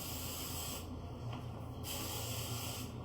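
Two close bursts of aerosol hairspray hissing steadily, the first pausing for a moment before a second spray starts.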